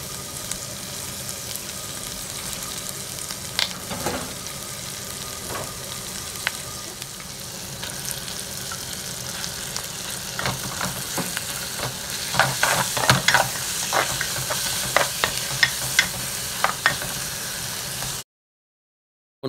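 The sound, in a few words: curry ingredients cooking and stirred in a clay pot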